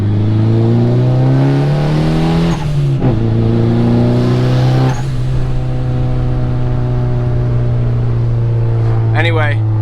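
A turbocharged Honda Accord engine revs hard and climbs in pitch, dipping briefly as it shifts gears, then keeps pulling with a steady, throaty drone.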